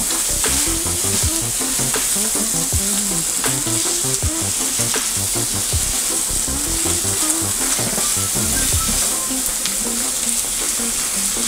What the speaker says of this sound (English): And now we add our two whole eggs. And now we give it a